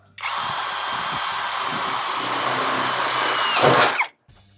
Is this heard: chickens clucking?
no